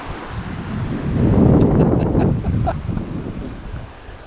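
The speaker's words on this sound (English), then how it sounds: "The waves are smaller." Wind gusts across the microphone on a Padre Island beach as small ocean waves wash in, the roar building to a peak midway and then easing, with no talking.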